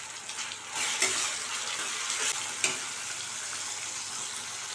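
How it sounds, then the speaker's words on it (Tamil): Chopped tomatoes and onions sautéing in oil for an okra curry give a continuous close sizzle, with a few sharper spoon scrapes against the pan over several seconds and no voices. "இப்போ தக்காளி வெங்காயம் நல்லா வதங்கிடுச்சு"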